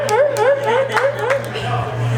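Audience members imitate seal barks as a seal of approval, a quick run of bouncing, barking vocal calls from several people, fairly close and loud, tailing off near the end.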